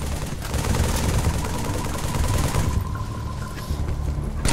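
Rapid gunfire crackles through a Halo 3 firefight, with dense, loud, continuous automatic bursts and occasional heavier booms layered over the shooting.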